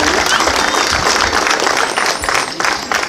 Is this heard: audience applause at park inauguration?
yes